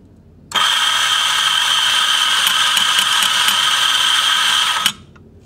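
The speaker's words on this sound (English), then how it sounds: "grind it straight into the group handle to ensure that our extraction time is spot on" A Quamar M80e coffee grinder with freshly replaced blades grinds beans straight into an espresso group handle: a loud, steady mechanical whir that starts abruptly, runs about four seconds and cuts off, with a faint rattle as it winds down.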